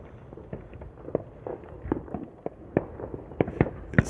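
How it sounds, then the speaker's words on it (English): Distant fireworks boom over a ridge line at night in an irregular, nonstop series of muffled thuds and cracks, some louder and closer-sounding than others. "It's such a great place to sit and watch fireworks."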